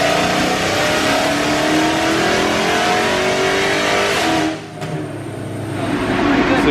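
Modified Dodge Hellcat V8 screaming under load on a dyno during an untuned pull, a loud continuous rising engine roar that briefly dips near the end, then builds again.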